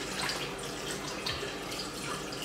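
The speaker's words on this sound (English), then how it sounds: "I'm gonna wash my hands." A bathroom tap runs while someone washes their hands as part of a skincare routine, giving a steady, soft, faint hiss of flowing water with no voices.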